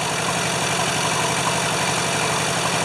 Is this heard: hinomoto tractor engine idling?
yes